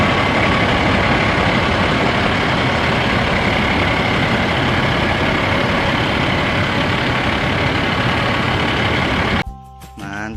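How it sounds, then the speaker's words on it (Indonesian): A fire ladder truck's engine runs in a steady low idling rumble, loud and close, continuing unbroken for about nine seconds before cutting off abruptly near the end. "ada truk tangga"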